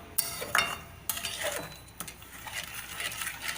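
A spoon stirs coconut burfi mixture in milk in a pan, making soft scraping and clinking knocks against the metal, irregular and close, with a faint background hiss.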